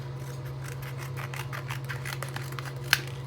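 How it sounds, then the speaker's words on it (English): Small folding scissors cut in a quick run of soft, close snips, ending with one sharper click. "They're just a lovely pair of scissors, and as I said, they fold up like this. And then obviously if we just give it a test,"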